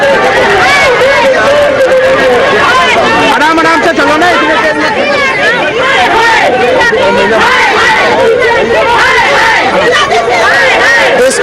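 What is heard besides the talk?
crowd chatter outside Sonia Gandhi's 10 Janpath residence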